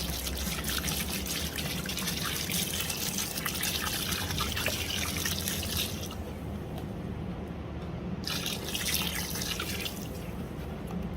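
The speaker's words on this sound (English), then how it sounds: "So we got it filled halfway with water." Water poured and splashing into a container holding rocks for cleaning, a continuous close trickling and dripping that pauses briefly near the end, then resumes, with no talk.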